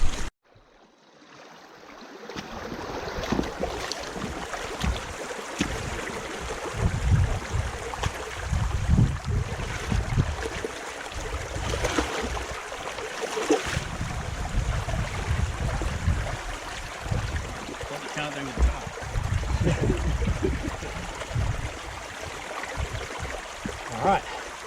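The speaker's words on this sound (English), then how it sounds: "set it up across a creek, put your sluice in the middle of it and have the water run through it" Creek water flows through a gold-panning sluice set in a dammed section of creek, a close, steady rushing and gurgling that builds after a quiet start, with brief talk over it.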